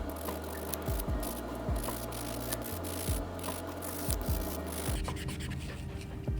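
A file smooths gel nails at home, giving a steady run of close, dry rubbing strokes in a repeating rhythm.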